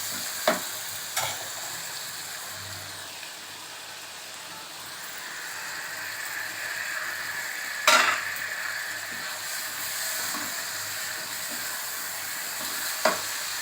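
Jodhpuri chicken with cashew paste stir-fried in a pan, a soft continuous sizzle with occasional sharp scrapes and knocks of the spoon against the pan, close, no speech.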